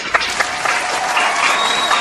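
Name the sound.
audience applause on game show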